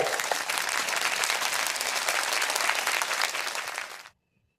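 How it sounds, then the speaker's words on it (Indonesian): A debate audience in a classroom setting claps in a full, steady burst of applause that fades and stops abruptly, followed by silence. "Berikan tepuk tangan."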